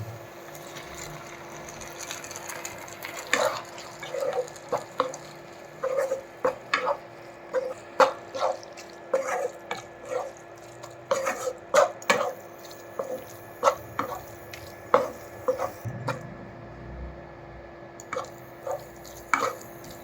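Dissolved cornflour being stirred into butter pepper chicken in a pan, heard as a long run of soft, irregular scraping and tapping strokes against a steady background hum, with no talking.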